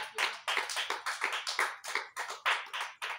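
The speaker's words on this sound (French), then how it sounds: "Applaudis pour le Seigneur." A small church congregation claps for the Lord, a steady run of sharp hand claps roughly three or four per second, fairly quiet and close, with no voices over it.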